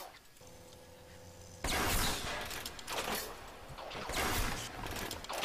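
Trap bolts fired from a crossbow in BioShock: a mechanical hum gives way to sharp, loud impact bursts and crackling discharges, with a second hit following a couple of seconds later.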